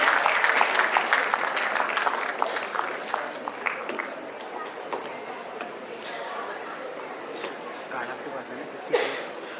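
At the AWES National Debate and Excellence Awards 2024, an audience applauds the winning school, a dense burst of clapping that thins gradually amid crowd chatter, with a few sharper claps near the end.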